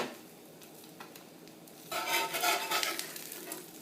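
An egg sizzling on a Lodge cast iron griddle over medium-high burners: a soft steady fry that swells into louder crackling and spattering after a couple of seconds.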